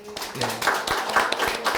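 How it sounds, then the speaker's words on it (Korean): Clapping from a small audience at a church family-worship webinar: a steady patter of hand claps, fairly close, with some uneven taps and a faint murmur behind. "우리 참부모님께 박수 한번 보내드리십시다"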